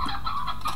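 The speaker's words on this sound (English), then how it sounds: "I heard even more chickens." A short burst of chicken clucking from Slime Rancher's in-game fowl, a few quick clucks at moderate volume with no talking.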